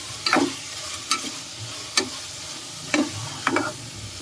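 Chicken with curry leaves sizzles in a pan while a spoon stirs it, the scrapes and clacks of stirring landing at irregular intervals over a steady frying hiss.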